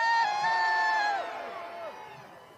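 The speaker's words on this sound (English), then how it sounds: "Cheer for me if you are from the Northeast." A crowd at a Washington, D.C. protest against Trump and Musk cheers and whoops in a short, fading burst, sounding moderately distant.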